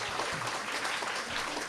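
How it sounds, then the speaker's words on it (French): Audience applause at a community group's 35th anniversary celebration, a steady wash of many hands clapping, fairly distant and continuous, with faint voices underneath. "J'aimerais ça qu'on donne une bonne main d'applaudissements aussi aux adultes qui ont été ou qui sont en démarche de formation."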